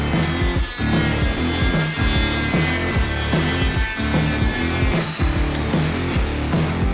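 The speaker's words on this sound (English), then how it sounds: "I'm just gonna be sanding off tiny little bit of the top and bottom here" A small sanding bit grinds against a wooden trim piece in a loud, close, rhythmic rasp of repeated back-and-forth strokes that continues without a break and has no talking over it.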